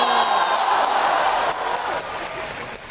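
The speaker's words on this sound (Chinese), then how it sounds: "这才是欢呼的声音呢" A live crowd at a Deyun Society crossover comedy show in Shangqiu cheers and claps, with loud, dense applause and whoops filling the room and tapering slightly toward the end.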